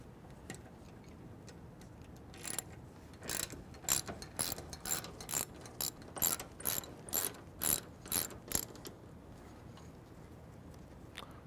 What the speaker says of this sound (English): Grab your 13 millimeter socket or wrench.